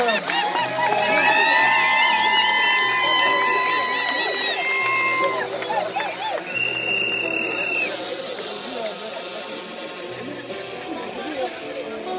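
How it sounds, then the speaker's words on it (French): Guests cheering at a lavish wedding, a lively crowd of shouts, whoops and ululating voices, loudest at the start and settling into busy chatter. "On acclame."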